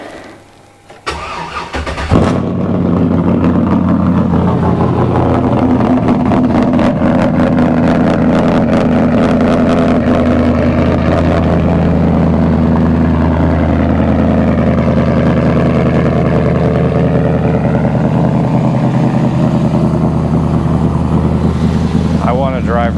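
2005 Chevrolet Avalanche engine cranks, catches and then idles loudly and steadily close by, with the pitch shifting slightly as revs change. A voice speaks over it.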